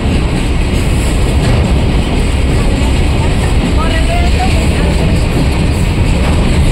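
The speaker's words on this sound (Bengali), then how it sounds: "এই দেখো মালগাড়ি ট্রেন" A freight train rumbles steadily past at Ambassa railway station in Tripura, loud and continuous broadband noise with faint squeals of wheels partway through, no talking.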